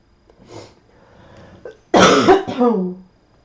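A few harsh, loud coughs close by, clustered in quick bursts after a quieter murmur of voice and breathing.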